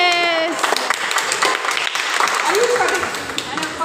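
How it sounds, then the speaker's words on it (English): Family and guests clap at a child's birthday party, a lively round of applause near the microphone mixed with excited voices and a high-pitched cheer. "Can we clap for you?"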